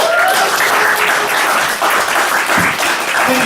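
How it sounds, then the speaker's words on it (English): Sustained audience applause for stand-up comedian Andrew Frank at a 2018 comedy show, a loud, dense wash of clapping from a large crowd that fills the moment without pause. "go one round of applause now for Andrew Frank"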